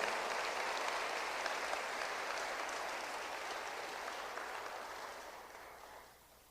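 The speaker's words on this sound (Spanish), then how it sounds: "Dele el aplauso al Señor" Congregation applauding the Lord during a Spanish-language church sermon, a dense, steady crowd clapping that holds for several seconds, then tapers off near the end.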